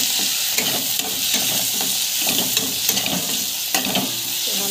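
Okra frying in a pan and being stirred, a steady close sizzle broken by the scrape and clatter of a utensil turning the pieces, with no one talking.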